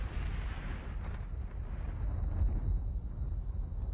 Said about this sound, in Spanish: Hace miles de millones de años, esta bola de fuego explotó.